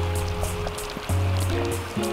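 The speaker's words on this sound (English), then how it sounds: "Hopefully it'll stop raining at some point" Rain falls outdoors beside a 2016 and a 2019 Hobie Outback, making a steady, even hiss that carries through the whole stretch with a faint low hum underneath and no talking.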